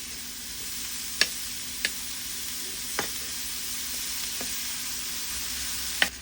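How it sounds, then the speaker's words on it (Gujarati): Leafy greens stirred into frying tomato in a pan, a soft continuous sizzle broken by a handful of sharp spoon clicks against the metal, spaced irregularly. "હવે ટામેટું ચડી ગયું એટલે એમાં ભાજી નાખી દઈએ।"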